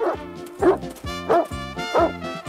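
A dog named Josef barks in an animated cartoon scene, giving four evenly spaced, sharp barks close to the listener.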